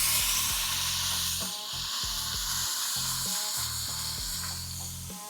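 A beef burger patty sizzles on a hot griddle after being smashed, a bright, steady frying hiss over low, chopped mechanical tones in the background, with no talking.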